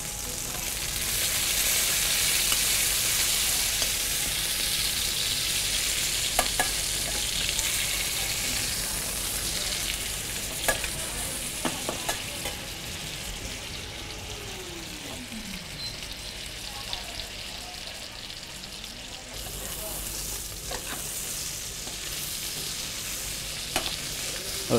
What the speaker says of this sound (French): Donc, on poêle ce côté-là.